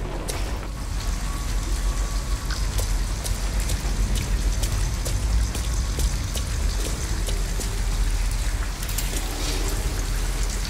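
Steady rain in the video game Detroit: Become Human falls outside an abandoned house, a constant dense hiss with scattered droplet taps that holds evenly throughout.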